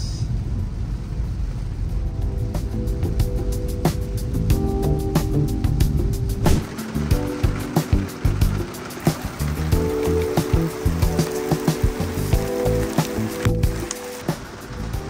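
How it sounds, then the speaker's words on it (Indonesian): Heavy rain pours down in a dense, steady wash with rumbling low-end roar, broken later by scattered sharper patters and knocks; close and loud throughout. "Hujannya makin deras."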